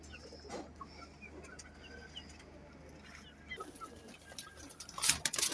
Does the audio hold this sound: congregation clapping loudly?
no